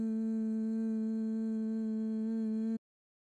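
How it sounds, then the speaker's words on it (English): A steady nasal hum on one sustained pitch, made while exhaling through the nose with the mouth closed as a yoga breathing exercise, close and even, lasting almost three seconds before it stops abruptly. "as you exhale through your nose, make a humming sound like this."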